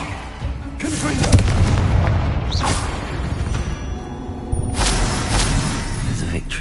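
Fire spell explosions cast in Hogwarts Legacy, a loud booming blast followed by roaring crackle, with a second burst of blasts a few seconds later, dense and close throughout.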